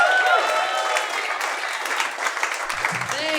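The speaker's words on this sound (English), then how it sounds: "Give it up for Dale Ward." Comedy club audience applauding an open-mic comedian, a dense wash of clapping from a packed room that holds steady for the whole stretch, with a voice calling out over the crowd at the start and again near the end.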